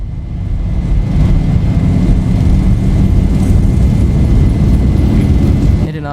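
Simulated Zibo Boeing 737 engines spooling up to takeoff/go-around thrust on the runway at Amsterdam Schiphol, a loud, steady, dense jet roar that holds constant before cutting off abruptly near the end.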